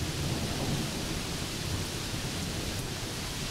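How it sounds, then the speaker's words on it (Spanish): Heavy rain roars steadily as a dense wash of noise, with a low rumble of thunder rolling underneath throughout. "La lluvia se intensifica"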